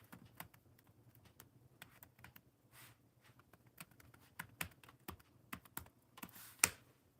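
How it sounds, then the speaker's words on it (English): Quiet, irregular tapping on a computer keyboard, with scattered soft keystrokes and a few sharper clacks that grow a little louder toward the end, heard alone in a hushed room. "I want to make sure you type in"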